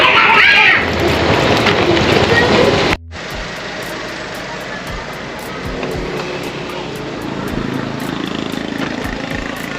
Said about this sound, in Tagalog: Grabe yung ulan dito sa Quezon.